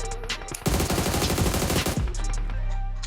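A rapid automatic burst of gunfire rings out in the PUBG Mobile shooter game, loud and close. The rattle of shots runs for over a second and then gives way to a lower steady game hum.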